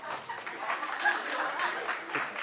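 An audience at a live comedy show breaks into steady, moderately loud applause lasting a couple of seconds, with some crowd voices mixed in.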